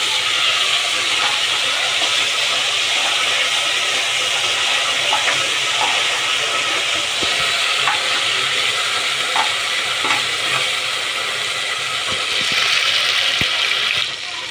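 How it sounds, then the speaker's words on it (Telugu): Mutton curry with garlic paste fries in a pan, giving a constant loud sizzle and hiss under intermittent scraping stir strokes. The sound is close and continuous, with no talking. "మంచిగా పచ్చివాసన పోయేంత వరకు వేయించుకోవాలి."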